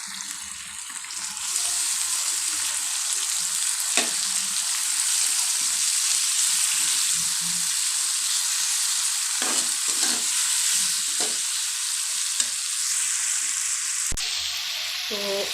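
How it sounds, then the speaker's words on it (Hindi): Salt, chili and turmeric frying in hot oil for a dal and sabzi dish, a steady broad sizzle throughout with a few scraping stirs and clinks, close and fairly loud, no talking. "साथ ही नमक, मिर्ची और हल्दी भी ऐड करेंगे। अब हम इनको भून लेंगे।"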